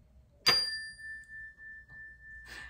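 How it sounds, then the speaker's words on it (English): A single bright bell ding rings out cleanly and lingers with a long sustained tone, followed by a faint second chime near the end over a quiet background. "I want to do a little bell here."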